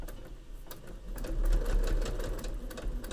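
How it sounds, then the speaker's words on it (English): A sewing machine stitches fabric while piecing a sewing machine mat, a fast close steady motor whir with rapid needle clatter, no voices. "I'm first just going to stitch holding this thread."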